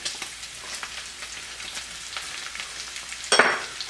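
Shallots hit a hot pan of nearly crisp bacon, raising a steady close sizzle that swells into a brief louder crackle near the end, with no talking.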